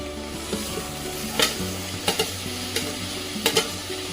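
Tomatoes tumble into onions already frying in oil for a chicken biryani base, giving a steady sizzle with a few sharp scraping stirs spaced through it, close and fairly loud.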